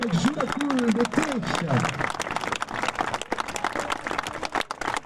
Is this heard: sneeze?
no